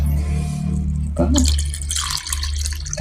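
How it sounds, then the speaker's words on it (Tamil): Water runs into a cooking pot for rasam, a steady splashing and dripping stream from a tap with a low hum underneath, growing brighter and noisier as the flow continues. "தண்ணி அளவாக ஊற்றி வச்சு"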